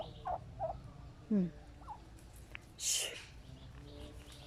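Faint clucks and squawks from chickens sound at a distance against quiet backyard garden background noise, with one brief sharp call.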